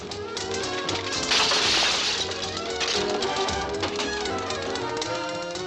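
Rare swing records are smashed in a film scene, with sharp cracking and shattering crashes over a dense, noisy background, loud and sustained with several distinct impacts.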